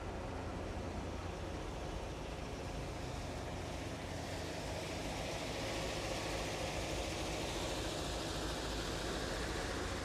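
Engine of a classic pickup, such as a 1951 Chevy 3100 or 1955 GMC tow truck, running steadily with a low, even idle rumble that holds constant throughout, close by with no talking.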